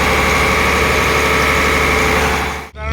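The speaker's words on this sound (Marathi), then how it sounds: "हॉर्स पॉवर इंजिन आहे." A fishing boat's horsepower engine runs steadily at sea, a loud, close, continuous droning hum with a brief dip near the end.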